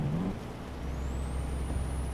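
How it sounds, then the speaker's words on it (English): A truck's exhaust brake in Euro Truck Simulator 2, climbing a mountainous road: a low steady engine rumble with a brief tonal whine at the start and a faint high whistle rising and holding, no voices. "people can hear my exhaust brakes a bit better."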